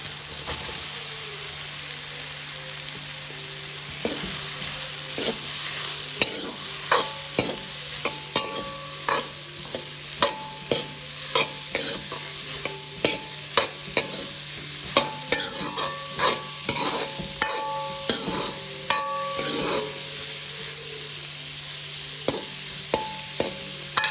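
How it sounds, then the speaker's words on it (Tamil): Onions frying in a pan for street-style chicken kothu parotta, a steady close sizzle under repeated sharp clinks and scrapes of a utensil stirring against the metal throughout, with no talking. "அடுத்து வந்து நாங்கள் வெங்காயத்தை போட்டுக்கொள்கிறோம்"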